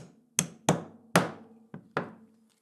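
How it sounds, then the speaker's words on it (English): A 1 1/8 inch wooden dowel is tapped into a wooden sanding block with five sharp, close knocks, each ringing briefly before fading, in an otherwise quiet room. "With a few taps, we'll tap this in."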